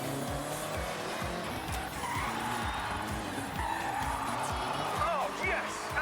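A car drifting in Forza Horizon, a steady engine note with rhythmic revving pulses and continuous squealing, skidding tires, loud and close throughout, with someone talking in the background.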